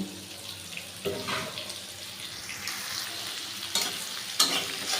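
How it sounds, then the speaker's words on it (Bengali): Small chopped onions fry in hot oil in a pan for an Indian-style potato and prawn dish, a steady sizzle broken by occasional stirring scrapes and clatter, with no voices. "এই তেলের মধ্যেই আমি দিয়ে দিচ্ছি সেই ছোট ছোট করে পেঁয়াজ কোচানোগুলো এই পেঁয়াজটাকে এবার ভালো করে বয়েল করব"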